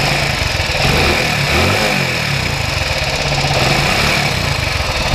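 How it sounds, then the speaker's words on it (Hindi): A Hero Honda motorcycle engine running loud and close, idling with a steady mechanical rattle of tappet ticking and a brief rise in revs partway through. "ये टैपिट का साउंड होता है"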